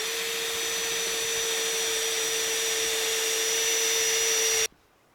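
Ryobi One+ cordless jigsaw cutting, fitted with a 2.5 amp-hour battery: a steady, loud, close motor whine that holds evenly and then cuts off abruptly just before the end, with no talking.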